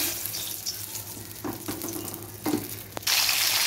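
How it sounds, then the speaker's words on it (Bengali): Yard-long beans and potato hit hot oil tempered with dried red chilli, giving a steady close frying sizzle with a few stirring scrapes and a louder burst of sizzling near the end. "শুকনো লঙ্কা কালো দিয়ে ফোড়ন দিলাম, দিয়ে যে বরবটি আলুটা একসাথে দিয়ে দিয়েছি"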